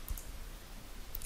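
A computer mouse click confirming a dialog in STM32CubeMX software, heard as one faint, short tick near the start over a low steady background hum, with no talking.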